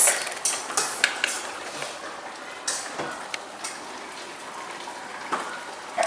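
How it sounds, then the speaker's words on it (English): Peanut sauce drizzled into a hot pan of cashew chicken, giving a soft, steady sizzle with scattered crackles and small taps, fairly close and with no voices. "I'm gonna go ahead and drizzle the"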